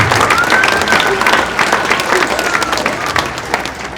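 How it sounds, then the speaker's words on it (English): Applause fills the room at a 2023 college athletics hall of fame ceremony, many hands clapping with some crowd murmur beneath, starting strong and gradually tapering off. "Let's give them another round of applause."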